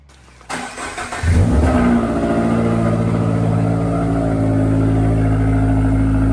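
A Toyota GR car's engine fires up after a quiet moment, revs sharply, then settles into a loud, steady close-up drone with no talking.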